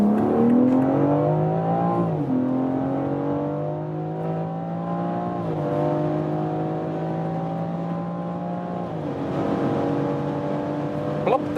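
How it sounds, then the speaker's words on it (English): A BMW X4 M Competition with a 3-liter engine and all-wheel drive pulls hard on the autobahn, its engine tone climbing steadily through several upshifts over a constant road and wind roar. "Very even acceleration from this all-wheel drive."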